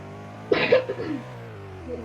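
A single short cough, close and fairly loud, over a quiet background with a faint steady hum.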